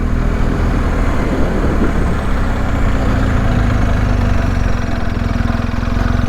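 A BMW R1250 GSA motorcycle engine drones steadily on a steep climb up a Colorado trail, a constant loud low rumble with wind noise, no talking.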